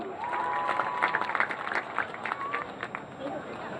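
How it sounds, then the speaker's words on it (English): A crowd at a high school game applauds graduating seniors, clapping and cheering swelling loudly at first and then thinning out, with an announcer's voice and crowd chatter over it. "How about one more round of applause for these great seniors?"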